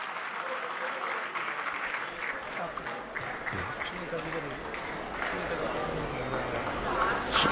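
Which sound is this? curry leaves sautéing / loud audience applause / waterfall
loud audience applause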